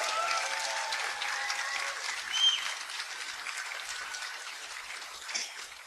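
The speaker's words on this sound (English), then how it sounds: "Give her a round of applause," Warm applause from a conference audience at a hacker convention closing ceremony, a steady patter of many hands clapping at moderate volume, with a few louder bursts.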